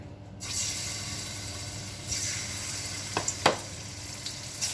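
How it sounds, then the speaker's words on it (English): Shrimp sizzle steadily in a hot skillet while being cooked a few at a time for Chinese lo mein, a continuous close frying hiss with a few brief louder crackles and stirring sounds, no talking. "So I'm just going to cook my shrimp a few at a time until they're all cooked."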